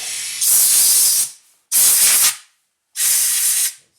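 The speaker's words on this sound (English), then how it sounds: "Spray a little fluid film everywhere." Three hissing bursts of Fluid Film rust-prevention aerosol sprayed on a Nissan Rogue's suspension, each about a second long with short pauses between, close and loud.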